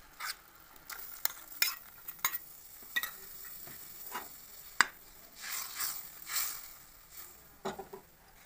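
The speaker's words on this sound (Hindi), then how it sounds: "अब हम इसमें डाल देंगे मटर," Green peas stirred in a hot wok with cumin and white sesame, water just added: scattered clinks and scrapes of a spoon against metal over a soft, steady sizzle, with no talking.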